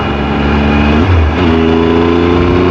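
2017 Triumph Tiger 1200 motorcycle engine at full throttle rolling on in fifth gear, loud and close, a steady rising drone that dips briefly and then climbs again under wind noise.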